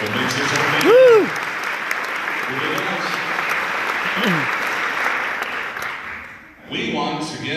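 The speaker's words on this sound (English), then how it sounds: "Let's give a round of applause." A luncheon audience applauds with steady clapping and cheering, a whoop rising near the start and again midway, before the clapping fades toward the end.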